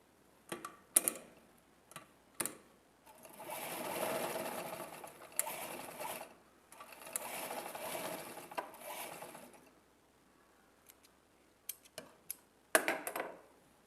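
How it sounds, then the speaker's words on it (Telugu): A sewing machine running zig-zag pico stitches along a saree edge, coming in two sustained whirring bursts broken by clicks and handling taps, with quiet gaps before and after. "చూసారు కదా శారీకి అంచులను ఎలా స్టిచ్ చేసుకోవాలో"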